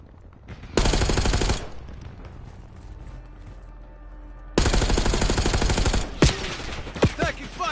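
Gunfire in Call of Duty Warzone, two long loud bursts of rapid automatic fire separated by a quieter stretch, followed by a few sharper single shots and booms near the end.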